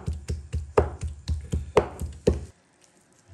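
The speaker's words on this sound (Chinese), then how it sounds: "把肉剁一剁，不要剁得太碎了" A cleaver chops meat on a board into coarse mince in a quick, even rhythm of about a dozen heavy thuds, close and distinct, before stopping and leaving near silence.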